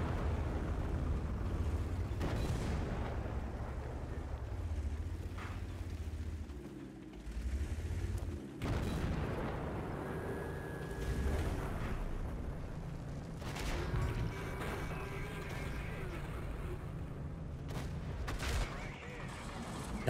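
Video game gunfire and explosions come in repeated sharp bursts and booming blasts, fairly faint and mixed with game noise, while players talk over the action.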